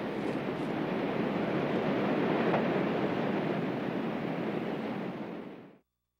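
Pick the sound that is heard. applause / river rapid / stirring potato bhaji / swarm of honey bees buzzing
river rapid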